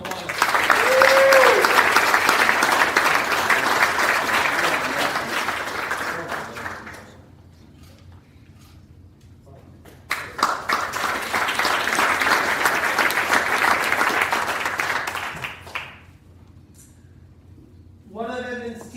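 A university sports awards ceremony audience breaks into two long rounds of sustained applause, each lasting several seconds, loud and dense, fading between rounds, with a speaker's voice coming in near the end.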